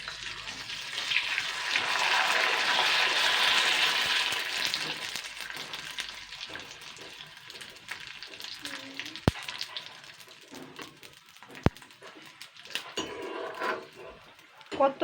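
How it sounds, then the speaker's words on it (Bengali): Sabudana papad fries in hot oil, a strong hissing sizzle swelling early then fading to softer crackles, with occasional sharp clinks of a utensil against the pan. "আমি এই ছোটো পাঁপড়টাকে প্রথমে ভেজে নেব।"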